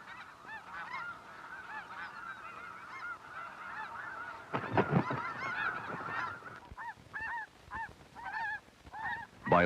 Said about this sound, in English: the young geese have learned to fly, and their parents have grown new wing feathers